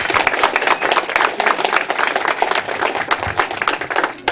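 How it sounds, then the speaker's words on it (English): Wedding guests clap together in a steady, dense round of applause, close and continuous throughout with no voices over it. "Thank you for the obligatory clapping"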